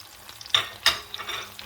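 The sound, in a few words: garlic, onion, pepper and tomatoes frying in a pan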